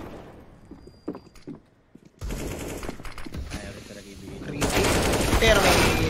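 Rapid automatic gunfire sprays in a professional Counter-Strike match on the Vertigo map, in several bursts that grow denser and louder toward the end while a commentator talks excitedly over them.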